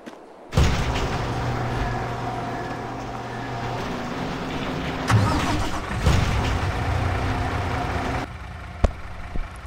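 An old Kenworth A model truck in Farming Simulator 22 fires up abruptly and settles into a loud, steady diesel idle, with a couple of brief rev surges before cutting off near the end.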